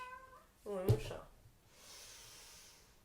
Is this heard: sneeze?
no